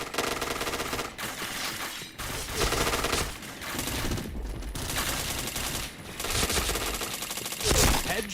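Dense rapid gunfire from the shooter game Point Blank, sustained bursts of automatic fire filling the whole stretch, loud and continuous with brief gaps.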